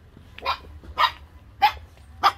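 A small dog barks four times at an even, quick pace, close and loud over a low hum, with no talking.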